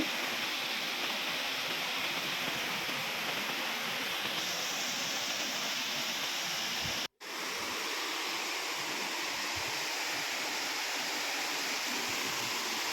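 Water pours in a steady, full roar over the overflow weir of the Jayyaram Pedda Cheruvu tank, close and constant, with one brief break in the middle.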